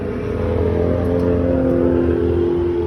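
Motorcycle gas tank making a steady mechanical whirring hum near the bike, loud and continuous with a constant drone, no speech over it.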